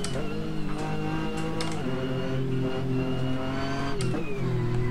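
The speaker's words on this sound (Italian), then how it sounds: "c'è un motore qua sotto che è un V12" Sustained, loud engine drone from a Ford Focus RS MK2 in a racing video game, with steady harmonic tone shifting pitch as the revs rise and drop, including a gear change near the end.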